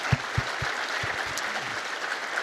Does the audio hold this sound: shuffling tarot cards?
no